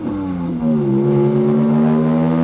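A car engine revs loudly and steadily through its exhaust, a deep droning roar that climbs slightly in pitch and holds close by.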